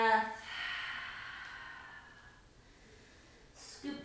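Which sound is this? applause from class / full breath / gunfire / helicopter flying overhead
full breath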